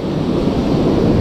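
Rough sea water sloshing and gusting wind around a small fishing boat trolling for ribbonfish off Jamaica, a steady, loud, broadband rush with no let-up through the short stretch.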